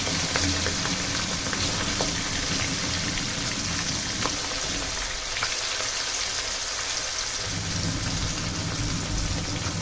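Hilsa fish pieces fry in mustard oil over medium-high heat with a continuous loud sizzle and crackle throughout, plus scattered pops and spatters.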